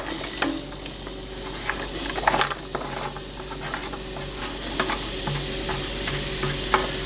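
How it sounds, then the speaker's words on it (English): Onions frying in a pot over high heat for beef stew, a steady hiss and crackle broken by repeated scraping and stirring knocks close by, with no speech. "We let the onions cook"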